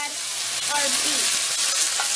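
Beef sizzles and is stirred in a hot pan for Peruvian tallarin saltado noodles, a dense, continuous close frying hiss with faint scraping movements throughout and no voices.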